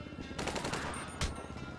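Bursts of NPC gunfire in GTA V, a quick volley of close shots followed by a sharper blast, alone with no talk.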